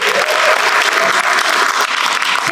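An audience at a kindergarten welcome night gives a dense, loud round of applause, continuous crowd clapping filling the whole stretch without a break.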